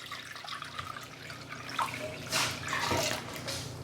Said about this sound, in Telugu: వేడి వాటర్ని వేసుకుంటున్నాను